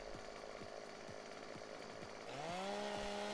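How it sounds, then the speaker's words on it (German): A chainsaw fells trees in a farming simulator game, its engine sputtering in a steady idle pulse before revving up to a louder, sustained whine, close and without talk. "Und damit fangen wir jetzt auch mal an mit der Kettensäge."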